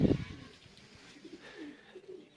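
Teddy pigeons cooing softly, with a louder burst at the very start followed by faint, low coos scattered over a quiet background.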